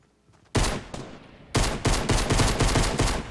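Rapid pistol gunfire in Fortnite, a loud single shot followed by a burst of close shots in quick succession, punchy and near.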